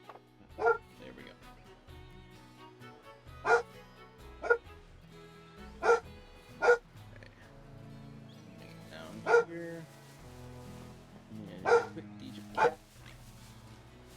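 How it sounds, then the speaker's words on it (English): A pet dog named Captain barks in an apartment, about nine single sharp barks spaced a second or more apart, fairly close, with a person speaking quietly in between. "Sorry about the dog."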